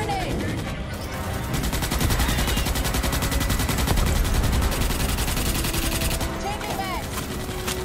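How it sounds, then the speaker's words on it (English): Sustained automatic gunfire from a turret in the video game Starship Troopers: Extermination, dense rapid bursts with chattering shots and explosive thuds filling the whole stretch at steady, loud volume. "Is that turret shooting?"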